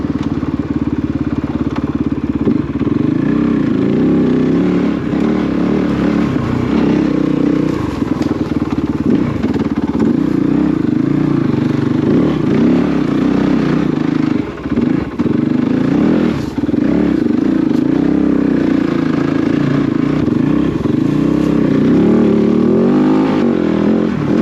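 A 2024 Kove 450 rally motorcycle's exhaust roaring loudly and continuously, with revving surges and engine clatter throughout, close to the listener.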